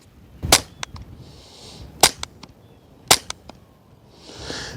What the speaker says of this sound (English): So let's take a few shots into the dirt and see what it sounds like.